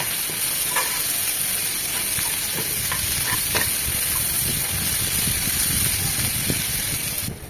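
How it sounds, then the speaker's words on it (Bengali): Onion and crushed garlic fry in a pan with a steady, close sizzle and hiss, with occasional stirring scrapes and no talking. "পেঁয়াজের সাথে খুব ভালোভাবে ভেজে নেব"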